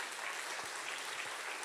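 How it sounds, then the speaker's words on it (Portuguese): Church congregation applauding God during a sermon, a steady dense wash of clapping heard from the pews, fairly faint and even throughout with no voices on top. "Aplaude a Deus por isso."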